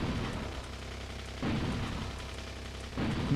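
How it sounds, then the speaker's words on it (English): Tank cannon shells firing in the video game Factorio, three spaced booming shots about a second and a half apart, each a fairly quiet thump with a short rumbling tail, no voices. "I'm burning through tank shells now"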